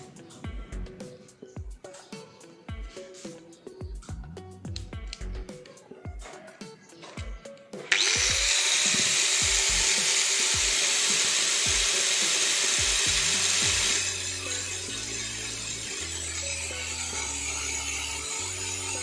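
A Kyocera AG1010x angle grinder on a no-load RPM test, with handling noises first, then a loud, steady high-pitched whine that starts abruptly and holds, its tone shifting slightly lower near the end.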